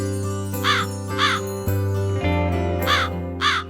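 Several harsh crow caws in short bursts over a steady tonal music bed, fairly close and moderately loud.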